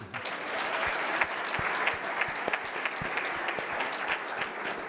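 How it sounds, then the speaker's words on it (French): Community members at a dialogue event in Rwanda applaud together, steady crowd clapping with individual sharp claps standing out, moderately loud throughout with no speech. "Applaudissez-le."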